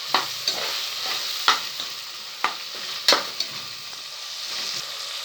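Tomatoes sauté with ginger, garlic and onion in a pan for vegetable biryani, a steady sizzle broken by repeated sharp scrapes and clinks of a spoon stirring, close and without talk.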